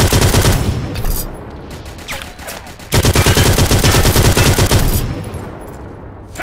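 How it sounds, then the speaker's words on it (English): Loud, dense automatic gunfire laying down suppressing fire in a shooter game, rapid continuous bursts close up with a brief dip midway before the firing resumes hard. "Suppressing fire!"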